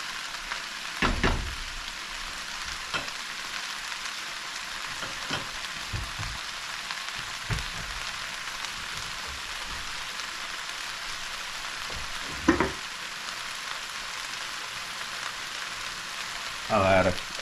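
Okra frying in a pan beside salt fish, a steady, soft hiss of oil carrying on throughout, with a few brief louder clatters and stirring knocks now and then.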